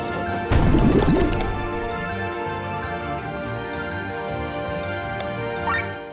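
Water thrust skill effect from the video game Chained Echoes: a loud splashing, gurgling water burst near the start, then lighter liquid drips and game sounds fading out, with a brief rising chime near the end.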